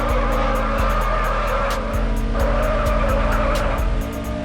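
Front-wheel-drive car in the video game Madout2 sliding sideways with the e-brake, engine droning loud and steady under a continuous tire squeal, with repeated short clicks throughout and no talk.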